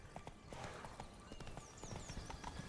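Roach, the horse in Witcher 3: Wild Hunt, galloping with steady rhythmic hoofbeats and a brief whinny, set against layered game ambience and music.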